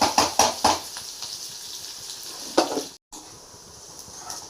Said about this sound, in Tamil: இப்போ இந்த வெங்காயம் வந்து நல்லா பொன்னிறமாக வரட்டும்